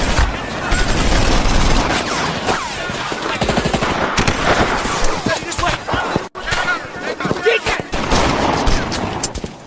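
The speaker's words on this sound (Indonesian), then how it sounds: "pasukan Jerman pun mulai menembaki para tawanan" In a war film, German soldiers fire machine guns at prisoners, producing loud, continuous bursts of automatic gunfire with booming shots and chaotic crowd noise layered underneath.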